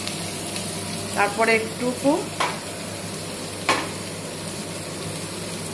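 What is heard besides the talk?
stir-frying capsicum and green chilli in a pan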